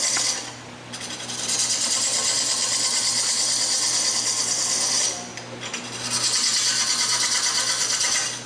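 A wobbling mahogany blank is roughed down on a wood lathe, giving a loud, continuous, rasping cut that stops briefly near the start and again midway before resuming.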